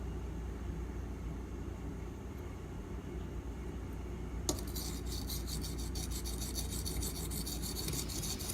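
A D2 steel knife is stroked across an aluminum oxide whetstone, a quiet low rub giving way halfway through to a crisper, rhythmic rasping scrape of repeated passes, with no voices.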